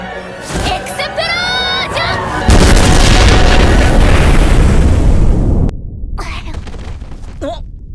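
A Megumin-style explosion spell from the anime KonoSuba goes off as a sudden, loud booming blast with a long roaring rumble that cuts off abruptly. Voices and whooshing effects come before it, and brief speech follows.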